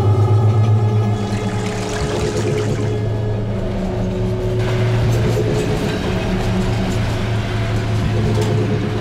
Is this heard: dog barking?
no